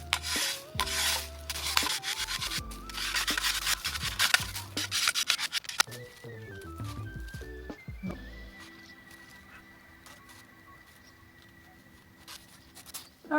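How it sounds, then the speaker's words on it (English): Scraping and rubbing as plaster is scratched off a bat-wing sprig mold, a busy rasping texture that is loudest early on and thins out toward the end. "I'm just gonna scratch some of this plaster off so that we can reveal the back wings"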